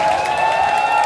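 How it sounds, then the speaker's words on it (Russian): Audience applauding a drummer at a music trade fair in Moscow, a loud dense burst of clapping from a crowd, brief and continuous. "Еще раз аплодисменты ему."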